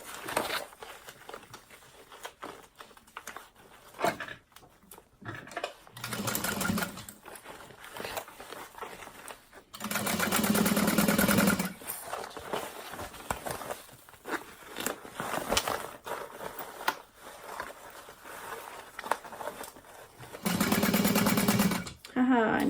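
A sewing machine stitches the side seams of a handbag, running in several loud bursts of fast whirring separated by pauses, with a voice talking in between.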